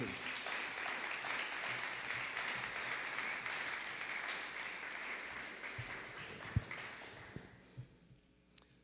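Audience applause welcoming a speaker, the proud parent of two PCD alumni, onto a school stage: sustained clapping from a crowd, steady for several seconds and then thinning out toward the end.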